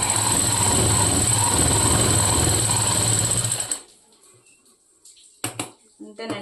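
Sewing machine stitching a boat neck blouse, a loud steady motor drone that runs for almost four seconds, then stops abruptly, leaving near silence broken by a few soft handling clicks.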